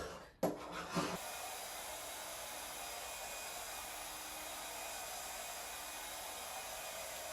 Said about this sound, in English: if I keep going over it with the heat gun, it'll work